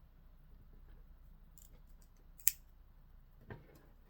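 Scissors snip through Kevlar thread while a fencing reel's wires are serviced, two quick sharp cuts close by in a quiet room.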